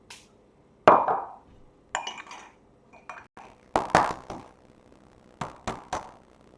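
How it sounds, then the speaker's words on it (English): Egg whites dropped into a mixing bowl while eggs are separated for a pavlova, heard as a few soft close splats and clinks against the bowl, spaced apart, with no talking. "popping that egg white in to our bowl"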